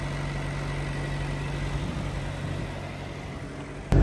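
Truck trailer refrigeration unit runs after starting, a steady low engine hum with a constant tonal drone and fan whir, close and unbroken, ending with a sharp thump.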